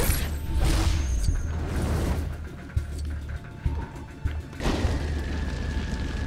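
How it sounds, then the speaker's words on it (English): Blocky objects in the Lego Marvel Super Heroes video game are destroyed with booming crashes, whooshes and clattering impacts, loud and continuous with several sharp hits throughout. "I'm just trying to destroy all this."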